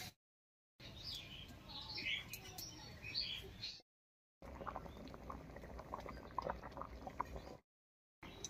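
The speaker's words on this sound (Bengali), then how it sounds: "বলক উঠে গেছে" Rohu fish curry with mukhi kochu boiling in a pot, a steady faint bubbling and sizzling texture broken by two short silent gaps, with no voices over it.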